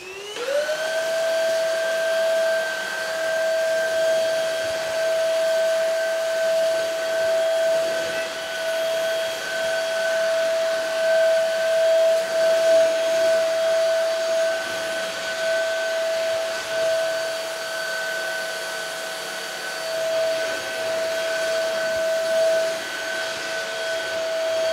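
A PRETTYCARE W100 cordless vacuum cleaner runs on normal mode with a steady, loud motor whine and airflow hiss, holding one tone throughout after a brief spin-up at the start.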